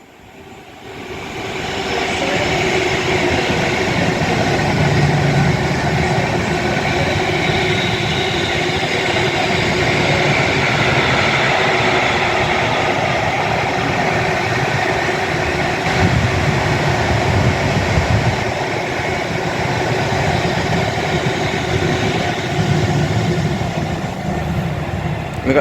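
Class 350 electric trains at Rugby station make a steady rolling rumble and hum that lasts about twenty-five seconds, fairly close and continuous, with faint station ambience.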